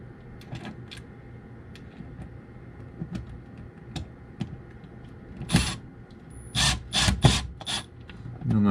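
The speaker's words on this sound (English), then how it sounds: "I like sticking the screw through a little bit first and get that started." A screw being driven into a plastic wall anchor with a power driver, starting with faint scattered ticks and then building into several short whirring and ratcheting bursts near the end, close and fairly loud.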